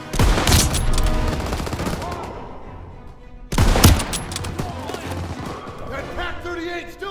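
Call of Duty: WWII battle gunfire erupts in two loud, dense volleys, one at the start and a second sharp burst midway, with rattling rifle and machine-gun fire trailing into lingering combat noise.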